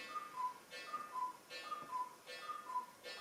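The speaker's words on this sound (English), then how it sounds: "I have a cuckoo clock" Cuckoo clock ticking steadily in a room, with a soft two-note chiming tone repeating at an even pace throughout, moderately quiet and with no voices.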